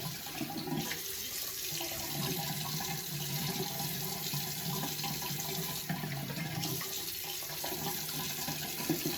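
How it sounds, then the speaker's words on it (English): Cold tap water runs steadily into a sink for a rinse during a straight razor shave, a constant close splashing hiss with slight surges in the flow and no voices. "I'm going to do a rinse of cold water"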